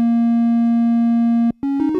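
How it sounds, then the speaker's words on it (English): A steady, pure synthesizer tone holds for about a second and a half, cuts out briefly, then returns as stepping pitches with a buzzier edge. "it's a little bit like a sine wave"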